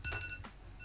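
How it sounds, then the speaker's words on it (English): A brief electronic alarm tone sounds as a reminder to take antibiotics: a short, quiet, ringing electronic chime lasting under a second, with no voices. "That's my alarm to take my antibiotic."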